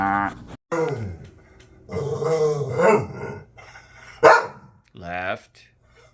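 A pet dog barks and grunts in several bursts close by, interleaved with a person talking to it in a home.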